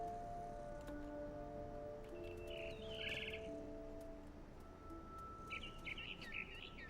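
Birds chirp in the video game What Remains of Edith Finch, with two short bursts of bright trilling over a steady ambient hum and soft tonal drones.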